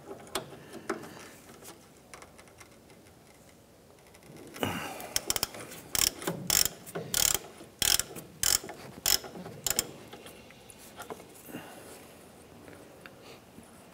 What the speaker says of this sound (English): Go ahead and remove our upper nut off of our pitman arm here.